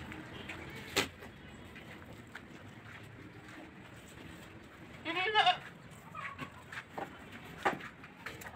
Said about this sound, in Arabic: ودي جدي 6 اشهر 30 كيلو